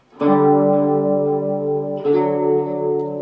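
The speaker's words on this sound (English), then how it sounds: "And the ringing note is the sus4." A guitar sus4 chord rings out loud and sustained, then a second strum about two seconds later lets it keep ringing with a bright, suspended sound.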